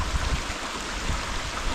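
Water flows continuously on a farm lot in the Philippines: a faint, steady wash of running water with soft, low bumps and no voices.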